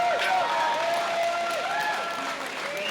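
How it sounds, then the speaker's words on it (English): A crowd at a jiu-jitsu lightweight title match in a hot gym keeps up steady applause and cheering, a dense, continuous wash of clapping with voices calling out over it. "the crowd is definitely enjoying this show"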